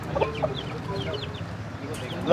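Chickens clucking in a busy backyard flock, short scattered calls near and far over steady rural background noise.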